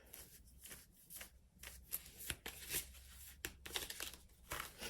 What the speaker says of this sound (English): Let's just shuffle